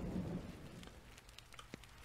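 Steady rain pours in the video game The Universim, with soft rumbles of thunder rolling beneath it; the wash of rainfall stays constant and moderately quiet throughout, with a brief sharper crack near the end.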